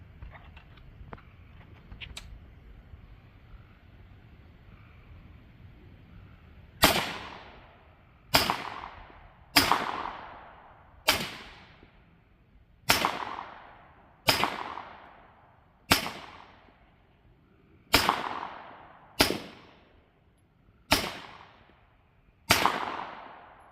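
A Ruger Charger 10/22 pistol with its stock extended fires about eleven sharp, loud shots outdoors at a steady, unhurried pace, each crack ringing out and decaying, after a quieter stretch of handling noise.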